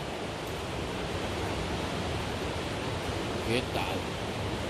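A river roars with a constant heavy rush of flowing water close by, filling the scene evenly; someone speaks a brief greeting over it near the end.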